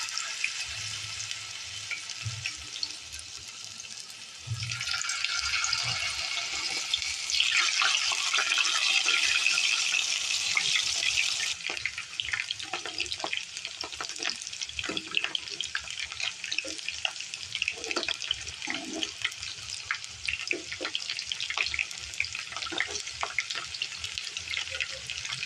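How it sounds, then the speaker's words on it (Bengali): Homemade potato chips frying in hot mustard oil, a broad hissing sizzle that swells partway through and settles, with scattered clinks and stirring taps over a quiet background. "এখানে আমি সরিষার তেল দিয়ে এটা ভেজে নিচ্ছি"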